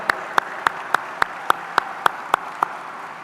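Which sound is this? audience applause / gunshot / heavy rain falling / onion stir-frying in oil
audience applause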